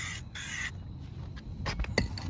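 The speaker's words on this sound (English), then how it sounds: "You don't want to spray too much because you want to give it time." Plasti Dip aerosol being sprayed onto car rims to coat them black, giving a couple of close hissing bursts with short pauses between, plus a few faint scrapes at the end.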